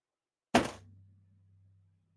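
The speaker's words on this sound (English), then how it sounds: "you hear a loud noise, and it's a just a thud, and everybody hears it, and everybody's heads turns to the front door." A single heavy thud against a front door in a tabletop horror RPG session, sharp and close, followed by a low fading rumble that lingers for about a second.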